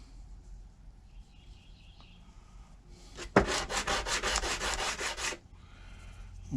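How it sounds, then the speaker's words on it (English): Steady rhythmic sanding strokes on a wooden block for a model ship, close and fairly loud, a quick run of back-and-forth rubs after a sharp knock. "I'm sanding the"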